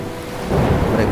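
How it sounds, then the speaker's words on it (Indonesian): Loud, close thunder rolls and swells under a steady wash of heavy rain, a storm sound effect with no talk over it. "Tiba-tiba badai pun datang menerpa."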